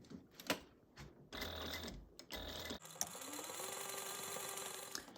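Sewing machine running a second row of reinforcing stitches along the bottom corner of a tote bag, starting with short stuttering bursts before settling into a steady whirring run, quiet and close.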